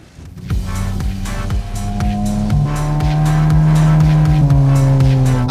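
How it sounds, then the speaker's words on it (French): An abandoned Shrek-themed car is driven out of a swamp, its engine loud and close, revving up through rising gear-like pitches and straining steadily throughout. "On a sauvé cette voiture Shrek. Cette voiture Shrek abandonnée tout droit sortie de ce marais"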